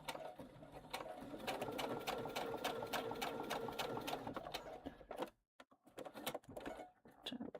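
A sewing machine stitches a River Walker bag in a fast, even run of needle strokes for about five seconds, then stops, leaving a few scattered clicks and handling sounds.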